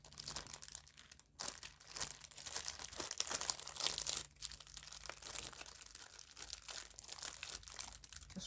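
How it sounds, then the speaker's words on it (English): Rummaging through a bin of papercraft supplies produces continuous close crinkling and rustling of paper and plastic, steady scratchy handling for several seconds with no voices. "Just rustling in my bin."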